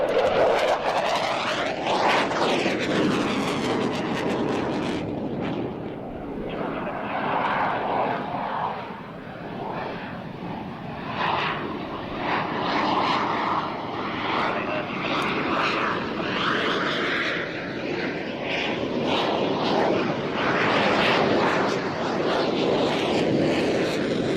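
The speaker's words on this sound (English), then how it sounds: "Enjoy some aircraft." Fixed-wing aircraft engines roar continuously at East Midlands Airport, a loud, sustained drone with a sweeping pitch as a plane passes close by, steady throughout with no talk.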